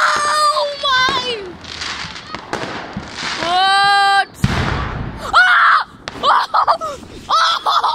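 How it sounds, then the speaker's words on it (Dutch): Fireworks crackle and bang close by during a private backyard display, with sharp bursts and whistling rockets mixed among excited shouting and screaming voices that talk over the blasts. "oh nee, daar zit vuurwerk."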